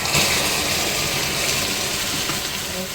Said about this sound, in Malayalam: ഞാൻ ഇതിലോട്ട് കുറച്ച് വെള്ളം ഒഴിച്ചു.